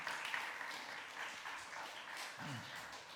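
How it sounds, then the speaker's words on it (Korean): Quiet applause from a church audience greets a young man coming up for a talk. The clapping stays steady and soft for a few seconds, with a brief voiced sound near the end. "여러분 크게 박수로 환영해 주시기 바랍니다"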